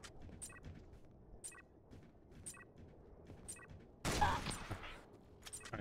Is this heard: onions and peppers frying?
no